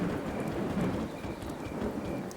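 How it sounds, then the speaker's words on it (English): Thunder and steady rainfall from the 2003 Windows video game The Fate, a constant hiss of rain on surfaces with low rolling thunder rumbles beneath, no voices. "I listen to the thunder."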